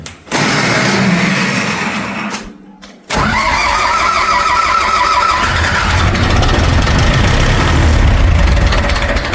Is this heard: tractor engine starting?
yes